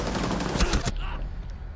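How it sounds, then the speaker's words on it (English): A rapid burst of loud gunfire in Rainbow Six Siege, several sharp shots in quick succession, then an abrupt cut to quieter background. "I hear a gunshot."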